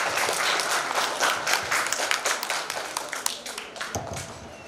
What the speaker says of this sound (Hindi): कृपया जोरदार तालियों से इनका स्वागत